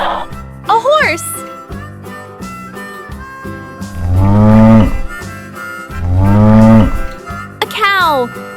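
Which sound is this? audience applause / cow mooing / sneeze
cow mooing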